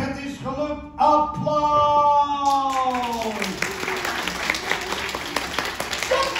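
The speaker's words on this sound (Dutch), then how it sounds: "Applaus!" An audience at a Jan Klaassen puppet show bursts into applause, dense clapping that starts after a sung or spoken voice and keeps going steadily, with a voice still heard over the clapping.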